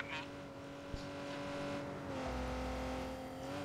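A Porsche is driven in the Watch Dogs 2 video game, a steady engine drone with a low hum that rises slightly as it accelerates, close and fairly quiet, with no one talking.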